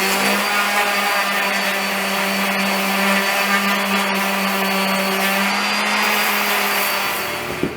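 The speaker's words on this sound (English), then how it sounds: "I'm going to sand the back of this ruler." Steady power-tool whir of sanding the back of a ruler to scuff it for gluing, a loud constant drone with a humming tone running unbroken throughout.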